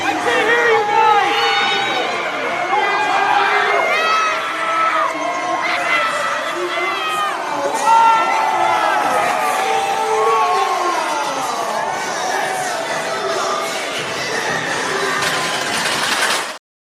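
A dense wrestling crowd at an independent pro wrestling show in Wildwood cheers and shouts continuously, with many overlapping voices and whoops at a steady, loud level throughout.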